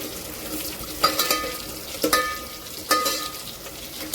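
Green chillies, onion and a few peanuts sauté in hot oil as a tempering for tomato masala khichdi, with a steady low sizzle broken by three sharp scraping stir strokes against the pan.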